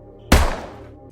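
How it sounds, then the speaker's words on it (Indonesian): A single sharp gunshot in a film scene, a loud sudden bang with a reverberant tail that fades over most of a second, with no talk around it. "Mendengar suara tembakan"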